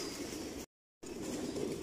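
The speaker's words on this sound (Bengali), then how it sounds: "এখানে এক জোড়া কবুতর আছে" Racing pigeons cooing at a large pigeon farm, soft low coos over a steady background hum, with a short silent gap in the middle.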